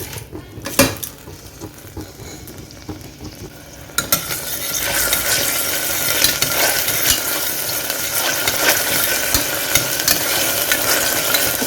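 Garam masala, ginger and garlic drop into hot oil in a pot for kichidi, bringing a couple of sharp utensil knocks and then a loud, dense sizzle that holds steady while the mix is stirred.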